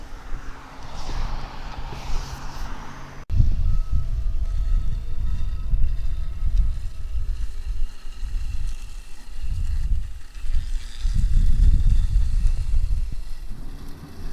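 A robotic lawn mower (Husqvarna Automower 435X) runs with a low motor hum and steady rumble, starting abruptly after a quiet opening and continuing at moderate volume with slight swells.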